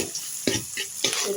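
Chepa shutki dried fish frying with onion in a pan, a continuous sizzle broken by a few sharp scraping stir strokes, close and fairly loud, with no voices.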